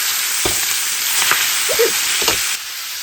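Chicken pieces fry in a pan with a loud, steady, close hiss and sizzle, with a few brief stirring clatters, and the sizzle drops slightly near the end.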